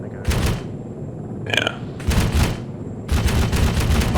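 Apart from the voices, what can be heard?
cannon firing from a video game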